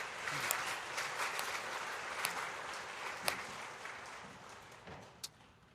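A church congregation applauds in thanks during a worship service, a soft, steady wash of clapping with a few sharper claps standing out, fairly distant and even throughout.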